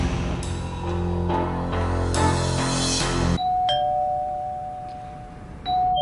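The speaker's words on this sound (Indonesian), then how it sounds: "ada yang menekan bel pintu" A doorbell chimes a clear ding-dong on its own after a burst of louder music, and a second short chime follows near the end.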